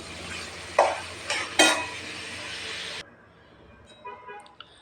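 Onions frying with ground masala paste for mint rice, a dense sizzle with a few sharp spoon scrapes for about three seconds, then the sound cuts off abruptly, leaving only faint background noise.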